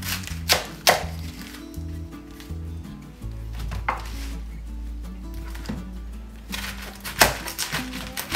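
A kitchen knife cuts through a head of cabbage for sauerkraut, giving a few sharp chopping thunks against a board spread across the stretch, close and moderately loud over a low steady hum.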